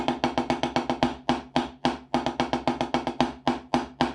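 A drum played in quick, even strokes that shift between single hits and rapid doubled pairs, steady rhythm, close and clear with no talking.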